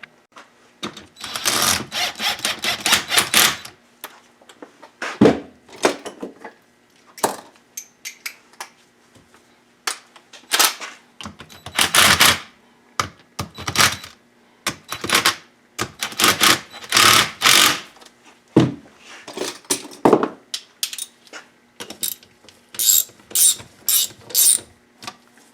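A ratchet snugs down bolts during assembly of a 2010 M8 engine, with repeated bursts of quick, close clicking separated by short pauses, working round and round in an irregular rhythm.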